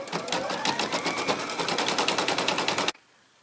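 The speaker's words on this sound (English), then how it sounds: "So her name's going to stitch out now." An embroidery machine stitches out a name on an in-the-hoop Post-it note design, a fast, even rattling of needle strokes running steadily for about three seconds before stopping abruptly into quiet.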